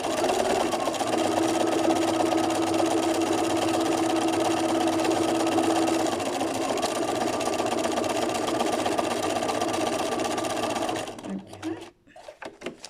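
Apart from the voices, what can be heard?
sewing machine stitching, machine embroidery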